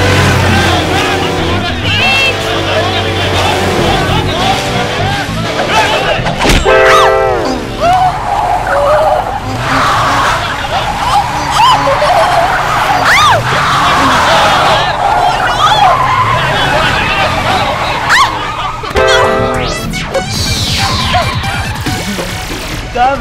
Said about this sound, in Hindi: गाड़ी भगावा, तेज और तेज।